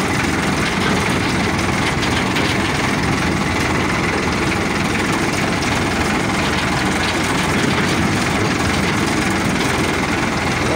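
Ford 3600 tractor engine running steadily while driving through a sugarcane field, a continuous low diesel rumble with constant loudness and no pauses across the whole stretch.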